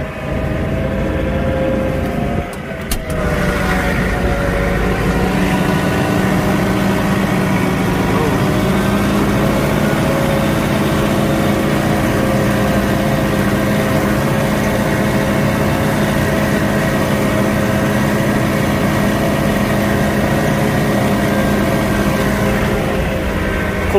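A John Deere 4066R tractor engine drones steadily and loud while the machine charges through snow in single-digit cold, a continuous low rumble with a brief dip near the start.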